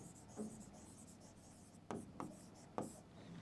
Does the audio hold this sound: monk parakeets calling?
no